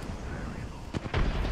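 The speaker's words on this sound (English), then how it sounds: "I'm just chucking nades or whatever" Grenades going off in Apex Legends, two or three quick, punchy blasts close together near the end, loud and booming over steady game noise.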